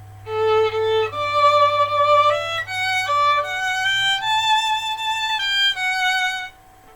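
A bowed violin plays a legato line of sustained notes, each held with steady vibrato that carries smoothly through the note changes, close and clear, with no talking.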